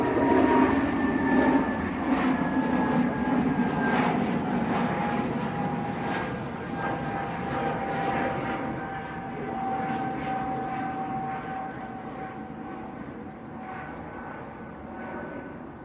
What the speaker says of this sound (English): Is that going to be the last departure off that runway then, Tom, do you reckon?